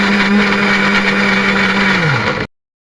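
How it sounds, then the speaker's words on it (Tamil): A mixer grinder whirs loud and steady as it blends carrot, beetroot and amla juice, its motor tone sagging slightly before cutting off abruptly into silence. "வாங்க ஜூஸ் அரைக்க போகலாம்."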